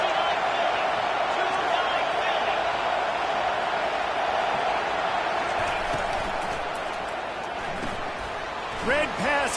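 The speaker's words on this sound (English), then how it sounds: "This crowd trying to make life miserable for this offense" Roar of a football stadium crowd bearing down on the offense, a dense steady loud wash of many voices throughout with a few sharp thuds near the end, under a commentator's voice.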